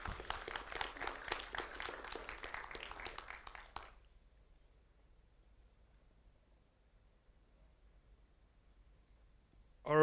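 A short burst of audience applause at a software testing conference talk, scattered clapping from a modest crowd that fades out after a few seconds into near silence.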